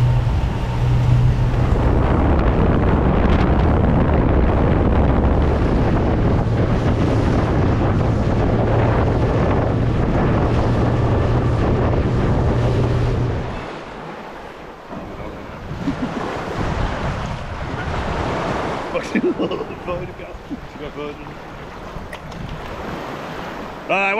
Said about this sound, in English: It's a bit windier than expected, so see how we go.